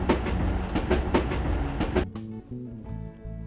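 An international train running from North Korea to Russia crosses the Tumen River railway bridge, built in 1951, with a rhythmic clatter of wheels over rail joints that soon drops to a quieter rumble.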